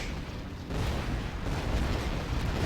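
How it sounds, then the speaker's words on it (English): A Volga artillery barrage in the strategy game Rise of the Reds rumbles as a dense, continuous wash of distant booms that swells louder partway through. "I have one more Volga firing a barrage"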